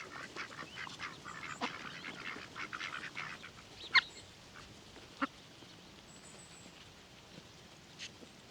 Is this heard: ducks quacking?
yes